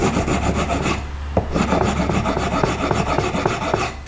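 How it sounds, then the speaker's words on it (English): A metal file rasps across the string slots of a guitar nut in close, rapid back-and-forth strokes, loud and continuous with a brief pause near the middle. "So I'm just going to file these off a little bit, and that'll get it closer to the proper size."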